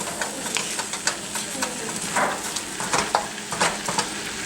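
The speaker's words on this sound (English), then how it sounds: "time to combine our vegetable and egg mixtures together" Vegetable and scrambled egg fried rice with chicken, green beans and cabbage is stirred in a hot pan, a steady sizzle broken by repeated scraping strokes of the spatula, close and fairly loud, with no one talking.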